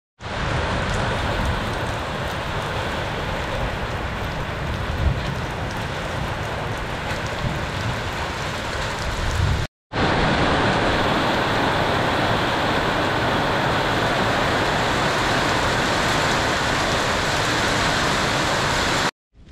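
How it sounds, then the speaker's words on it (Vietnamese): Steady, dense rain pours down close by in a continuous hiss, briefly cut off just before the midpoint and then resuming at the same even intensity, with no voices. "bây giờ mưa cũng đã ngược đi rồi quý vị. Tuy nó chưa tạnh"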